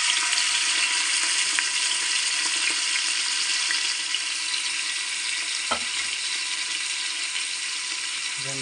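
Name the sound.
crushed native onion frying in pan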